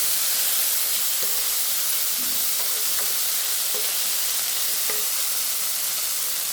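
Ivy gourd (kovakka) sautéing in a pan, a steady close sizzle and hiss throughout with occasional faint clinks of stirring, no talking.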